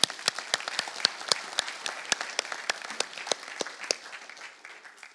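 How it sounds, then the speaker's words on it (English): Audience applause closes a cybersecurity conference talk on AWS offensive techniques, a room of clapping hands with distinct sharp claps standing out over a steady patter, loud and sustained before gradually thinning out. "Santiago, applause."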